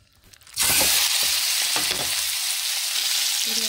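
Beef steak dropped into a lightly oiled hot pan bursts into a loud, steady sizzle that starts abruptly and keeps crackling close up, with a few soft scraping taps under it and no voices.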